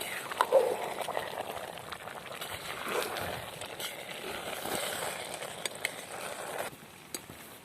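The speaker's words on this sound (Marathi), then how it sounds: "आपला तांदूळ आता शिजत आलेला आहे तर आता हे थोडं हलवून घ्यायचं आहे थोडा वेळ" Rice for chicken biryani bubbling in a pot and being stirred, a soft continuous simmering hiss with faint scraping and a few light knocks, quiet and close with no talk.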